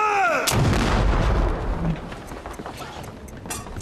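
A ship's cannon fires with a huge booming blast at close range, followed by a long rumbling roar that slowly fades beneath scattered clatter on deck.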